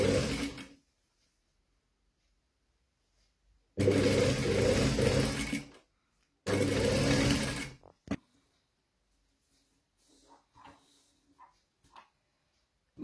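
A domestic sewing machine stitching fabric in two short bursts of rapid, even whirring, near and fairly loud, separated by silence and followed by faint handling noises.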